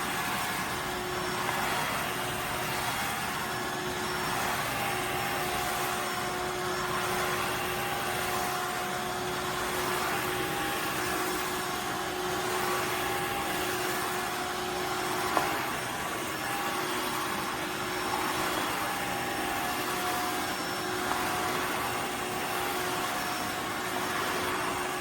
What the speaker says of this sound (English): I'm gonna try my new steam vacuum, Floor 1 S3 model.